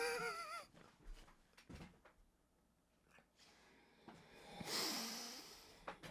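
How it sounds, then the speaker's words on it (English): A person clears their throat during a podcast recording: a few rough, breathy snorting rasps, close and fairly quiet, with a short harsher burst near the end and no speech. "Let me clear my throat."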